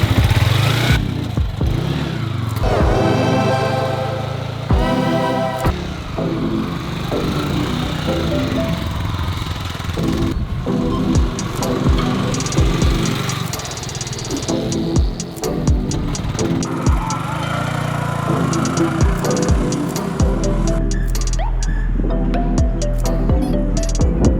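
A motorcycle laps a racing track at CRA MotorSport in Bangalore, its engine droning and revving continuously and loudly, with gear changes and rising and falling pitch as it passes through corners.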